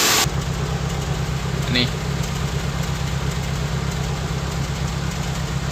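A Toyota Corolla twincam liftback engine idles at the exhaust with a steady, even low-pitched drone heard up close, and someone says a single word over it near the start.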